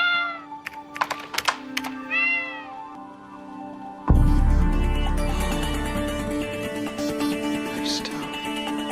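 A cat gives several loud, close meows with rising and falling pitch, followed by a sudden thump and a steady background noise.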